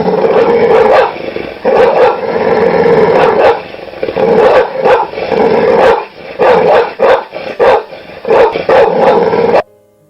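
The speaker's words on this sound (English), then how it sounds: "The dog burst into a barking, growling warning" A dog barks and growls in a loud, close, agitated run, rapid barks breaking over rumbling growls for about ten seconds before cutting off.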